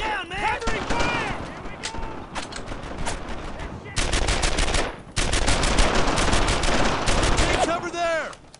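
Rapid machine-gun bursts and rifle shots crackle in the World War II shooter Brothers in Arms: Earned in Blood, in dense volleys with brief pauses, while soldiers shout over the gunfire.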